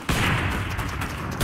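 Sustained submachine gun fire in a video game gun-game match, a dense, loud continuous burst lasting the whole moment with no pauses and no talking.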